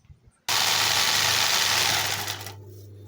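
A sewing machine stitches in a home nursery, starting abruptly after a brief quiet and running as a steady close whirring drone with a low hum for about two seconds before winding down.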